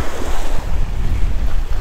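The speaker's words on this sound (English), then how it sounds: "These winds got the swells like freaking crazy." Strong wind buffets the microphone while rough ocean swells break along the shore on an unfishable day, a continuous loud roar and hiss of surf without talk.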